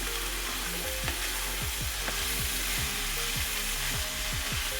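Spring onions sizzle steadily in a hot pan while a spoon scrapes and stirs in a quick, regular rhythm, close and loud with no talking.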